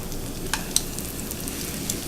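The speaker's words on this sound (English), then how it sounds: "put them in a real hot pan so that they start sizzling." Country fried steaks sizzle in a very hot pan, a soft, steady frying crackle with a few faint pops and clicks over the top.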